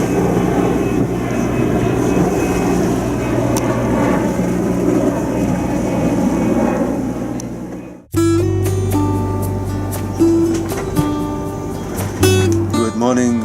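Aircraft passing low over an anchorage beside Barcelona airport, a sustained engine roar that cuts abruptly to a different passage with tonal hums and brief clicks, loud and close throughout.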